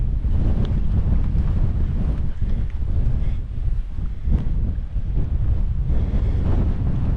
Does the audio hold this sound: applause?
no